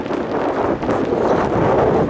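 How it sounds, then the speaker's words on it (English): Wind gusting across the open deck of a Norwegian cruise boat, a loud, rough buffeting roar against the microphone that stays constant through the short moment. "It's getting a bit windy now."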